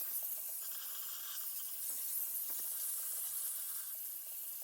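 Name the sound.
steam cleaner hissing while cleaning a bathroom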